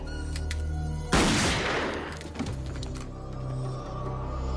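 Sudden burst of gunfire in a World War II prisoner-of-war setting: a loud volley of shots that decays into a noisy tail, with quieter ambience before and after.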